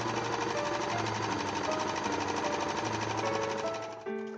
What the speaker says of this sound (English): I tacked the two layers together with long diagonal basting stitches before flatlining them together on the overlocker.